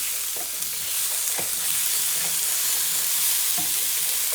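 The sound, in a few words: vegetables frying and being stirred in a pan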